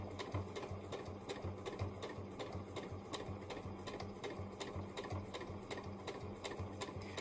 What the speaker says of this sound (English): I'm going to make sure that I have my speed governor on slow and I'm going to start stitching all the way down.